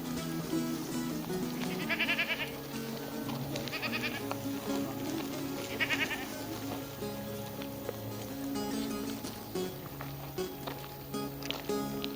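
Sheep from a flock grazing on the Malatya hills bleat three times at roughly two-second intervals, loud and close, over constant outdoor rustle and movement.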